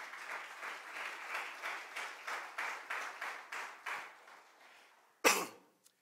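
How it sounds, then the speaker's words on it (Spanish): A church congregation claps in unison with a steady rhythm for about five seconds, the claps gradually fading, followed by a sharp, close cough. "Démosle palmas al Señor"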